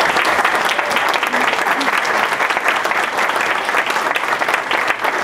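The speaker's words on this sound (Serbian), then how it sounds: "Hajde da im zajedno pružimo jednu veliku aplauzu." A large audience claps steadily at an embassy opening ceremony, a dense, even wash of applause that holds loud and close throughout without a break.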